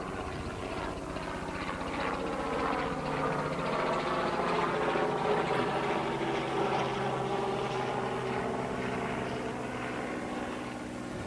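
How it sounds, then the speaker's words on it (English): A helicopter passes overhead outdoors, its steady rotor and engine drone swelling to a peak midway and easing off again, moderately loud and continuous for about eleven seconds with no talk. "let's wait till this helicopter passes."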